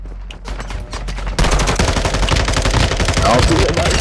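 Rapid bursts of automatic gunfire in Call of Duty Warzone, loud and dense, with the firing growing heavier and continuous partway through.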